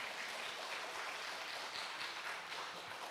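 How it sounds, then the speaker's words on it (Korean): Steady applause from a church congregation during a Sunday service, dense continuous clapping holding at an even level for a few seconds with no voices on top. "박수 한번 칠까요?"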